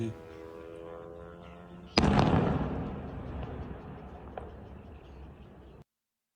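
An explosion near the Millerovo military airfield during a drone attack hits as a single sharp, loud blast followed by a long rolling rumble that fades over several seconds. A brief voice and tone come before it.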